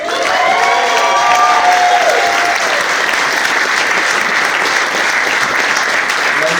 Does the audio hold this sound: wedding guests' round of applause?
yes